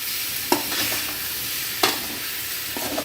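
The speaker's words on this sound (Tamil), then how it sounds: "இப்போது சேர்த்து நல்லா ஒரு 2 நிமிஷம் நல்லா வதக்கிக்கலாங்க" Tomato sautéing with egg kothu parotta in a pan, a steady close sizzle broken by two sharp spatula scrapes and stirs, with no talking.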